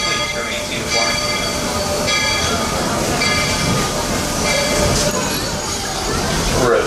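A Walter E. Disney steam train running at Disney station gives off a steady, loud rail rumble with rolling wagon noise throughout, while a voice sounds over the train.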